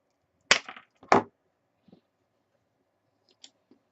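Two sharp snips of scissors cutting paper for a mitten box decoration, followed by a few faint small clicks, close and isolated against quiet.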